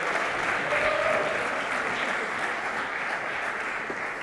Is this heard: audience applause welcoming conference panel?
yes